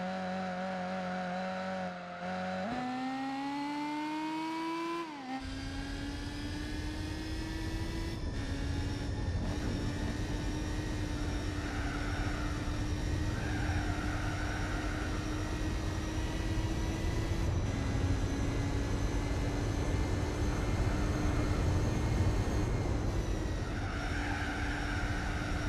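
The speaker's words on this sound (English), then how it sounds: "All because of a single engine sound." A muscle car engine in Gran Turismo 4 drones loudly and continuously, its pitch climbing sharply through a couple of gear changes before settling into a sustained high-revving buzz.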